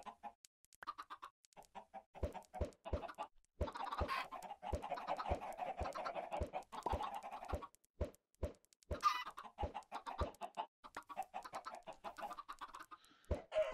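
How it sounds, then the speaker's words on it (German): Chickens clucking in the video game Minecraft, a flock of them giving repeated short clucks and squawks alongside a steady run of rhythmic thumping beats, with no speech. "jetzt haben wir auch schon jede Menge Hühner"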